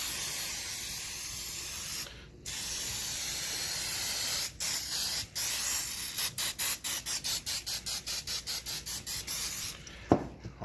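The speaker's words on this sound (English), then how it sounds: "we're just going to give them a nice little spray" Hissing sprays from an aerosol can of non-stick vegetable oil onto turkey legs: a few separate longer bursts, then a rapid run of short puffs, close by over a steady background hiss.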